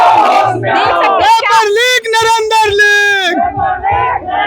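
RJD supporters on a protest march to the Raj Bhavan in Patna, loud crowd voices shouting and chanting slogans in long drawn-out calls, close and dense with overlapping shouting.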